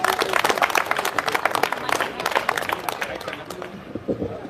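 An audience at a Hindi poetry gathering applauds loudly to welcome the event's chairman, a dense, continuous burst of clapping that thins slightly toward the end.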